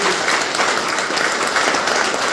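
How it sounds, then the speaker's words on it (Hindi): Seminar audience breaking into steady, dense applause, many hands clapping continuously at a loud, even level with no talk over it. "और तालियां बजाएंगे।"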